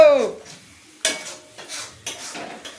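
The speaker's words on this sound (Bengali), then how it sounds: "সুন্দরভাবে কষিয়ে নিচ্ছি, সুন্দরভাবে কষিয়ে নিই।" Soya chaap being stir-fried in a pan, a few sharp scraping clinks of a spatula against the pan at irregular intervals, each fading quickly, over a faint sizzle.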